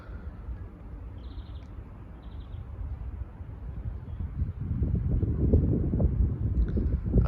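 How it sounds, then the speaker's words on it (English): Wind gusts buffeting an outdoor microphone at Meadowhall, a low rumbling rush that grows stronger and louder in the second half, with no talk. "Oh, that wind is nice."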